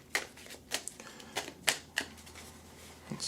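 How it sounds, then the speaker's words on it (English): Secret Garden mini oracle cards being shuffled and tossed down, a run of sharp papery flicks and slaps in uneven bursts, close and fairly quiet with no talking. "So we're just going to go ahead and shuffle and throw."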